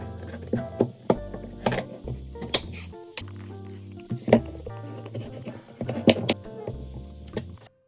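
A pumpkin being cut and peeled on a board, with scattered knife thunks, scraping strokes and small clinks, close and fairly quiet, under light background music.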